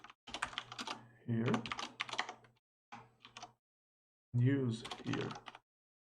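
Rapid clattering keystrokes on a computer keyboard come in several bursts separated by pauses, with a voice speaking briefly among the typing.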